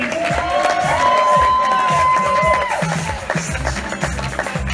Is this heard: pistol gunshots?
no